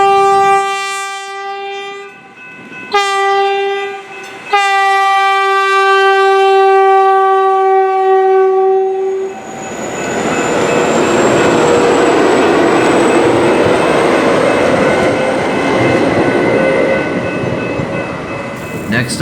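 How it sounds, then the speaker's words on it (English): A westbound TEXRail train at Tower 60 in Fort Worth, Texas sounds its horn in loud sustained blasts broken by short gaps, then rumbles past with a broad roar of wheels and rails. "a westbound Texrail that was waiting on the eastbound Texrail was making its way through"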